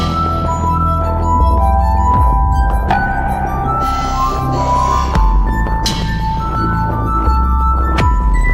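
KUKA industrial robot arm moving between glasses and clinking them, with several bright glass chinks spaced over a loud, continuous mechanical hum and whir.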